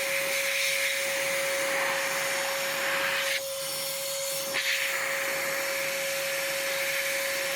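A battery-powered air blower blasts liquid off a resurfaced GameCube game disc, a loud steady whooshing roar with a short dip partway through, then resuming at full strength.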